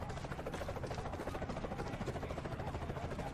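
Helicopter in the video game Dead to Rights: Retribution, a continuous rotor chop with a rapid, even pulsing whir, steady and fairly close, with no talking.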